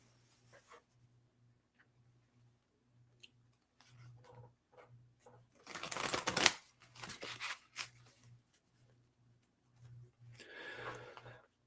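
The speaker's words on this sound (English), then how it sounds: "I'm going to pull some tarot cards for you also." Tarot cards are shuffled close up in quiet, irregular rustling bursts, with one louder flurry midway and another near the end, over a faint steady background hum.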